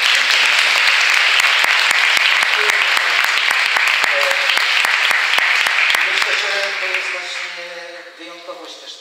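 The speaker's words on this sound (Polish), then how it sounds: "Wielkie brawa dla naszych cudownych gości." Dense, steady audience applause for guests at a film event interview fills the space, sustained and loud before tapering off gradually near the end.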